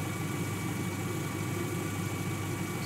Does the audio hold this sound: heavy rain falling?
no